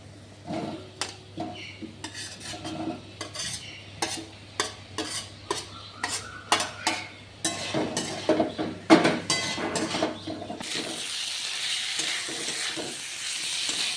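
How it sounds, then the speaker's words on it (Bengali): Potatoes and pointed gourd stirred into frying spice paste in a pan, with repeated spoon scrapes and clinks in an irregular rhythm over a steady sizzle, which softens to a gentler hiss near the end; no talk. "মশলা প্রায় কষাই হয়ে গেছে, এবার আলু পটলগুলো ঢেলে দেবো।"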